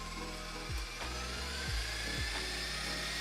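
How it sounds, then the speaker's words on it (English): An electric mixer whips egg whites, whirring steadily on high, with a few clunking thumps as the beaters knock the bowl. "So I'm gonna get that going here in the mixer for us."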